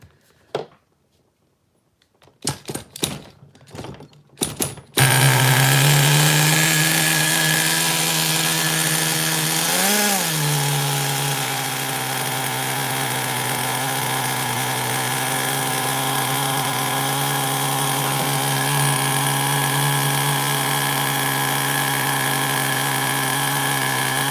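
Vintage HPI nitro RC car engine idling after a clutch adjustment: a few brief throttle blips, then a loud, steady, buzzing idle held close by with one short rev bump.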